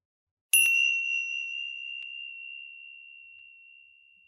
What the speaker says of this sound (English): we'll make a start using some chimes to begin